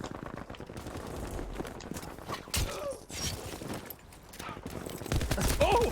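A ZK-383 submachine gun from the medic class fires in rapid bursts during a Battlefield 5 match on the Marita map, crackling and dense amid other battle noise, with a voice talking at times.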